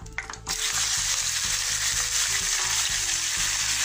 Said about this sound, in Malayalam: ഇനി നമ്മൾ കഴുകി വെച്ചിട്ടുള്ള ചിക്കനെ ഡയറക്റ്റ് ഇതിലേക്ക് ചേർത്ത് കൊടുക്കുകയാണ്.